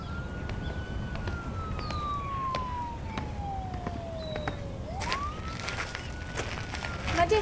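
Police sirens wail from some distance, one long falling tone sweeping down and then rising again over a low, steady background rumble.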